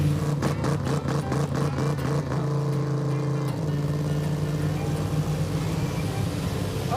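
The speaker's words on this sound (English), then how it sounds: "The rev limiter. That's weird." Race truck engine bouncing off the rev limiter, a loud rapid stuttering pulse that gives way to a steady droning hum.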